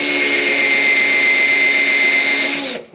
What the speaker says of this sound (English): So let's put a hole in my tank.